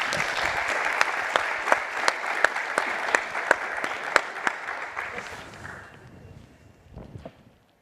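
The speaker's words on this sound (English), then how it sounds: "if you'll give a big round of applause to the panel" Conference audience gives a panel on gene editing for agrifood systems a round of applause, brisk clapping with a few sharp near claps, tapering off and dying away into quiet near the end.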